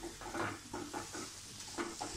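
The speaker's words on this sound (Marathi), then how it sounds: "थोडं तेल सुटेपर्यंत आपल्याला हे वाटण परतून घ्यायचं आहे." Masala paste sautéing in oil over medium heat, a soft continuous sizzle with a spatula scraping and stirring in rhythmic strokes, fairly quiet and close, no speech.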